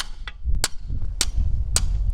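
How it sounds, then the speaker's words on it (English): A hammer pounds a metal plate held against a workpiece on a 2-stroke dirt bike build, giving three loud, sharp, ringing strikes at a steady pace over low background rumble. "I'll put this metal plate against the workpiece to protect it from the hammer and pound it over."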